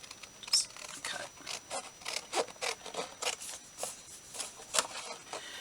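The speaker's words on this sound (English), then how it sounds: "Scissors, scissors, scissors." Scissors snip through paper to shape a journal tag for scrapbooking, a quick run of short crisp cuts and rustles repeating unevenly for several seconds, close and fairly quiet.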